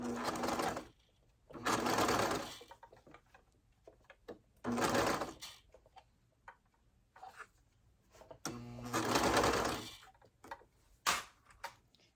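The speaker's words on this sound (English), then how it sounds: "we're going to be serging through 5 layers. So I'm going to do it slowly." A serger stitching slowly through five layers of fabric on skirted bummies, run in several loud, buzzing bursts of one to two seconds each, separated by quiet pauses with small clicks and fabric handling.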